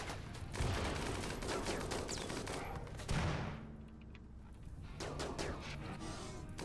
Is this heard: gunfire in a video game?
yes